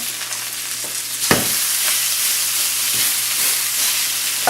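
Steak sizzling and frying steadily in a hot pan while its other side cooks, a constant close hiss with a few brief louder spits and crackles.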